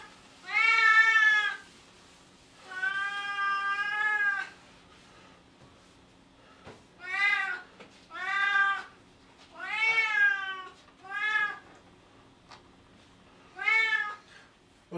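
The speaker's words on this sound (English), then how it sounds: "If you have a noisy cat, she might want to say how she likes to cook too." A pet cat meows repeatedly in a quiet kitchen: about seven drawn-out, insistent cries with short pauses between, close to the microphone and heard alone.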